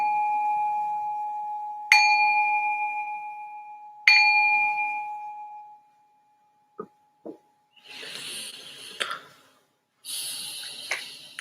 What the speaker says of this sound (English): I'm going to ring the bell to signal the start of the meditation